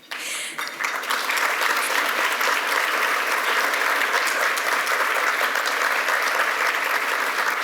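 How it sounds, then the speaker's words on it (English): An audience applauds during a softball hall of fame induction speech, with sustained, even clapping from a large crowd that swells quickly and holds loud throughout. "She deserves all the applause."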